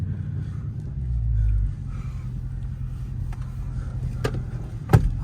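A Dodge Scat Pack with its mid muffler deleted idles with a deep, steady exhaust rumble that briefly swells, followed by a dull thump near the end.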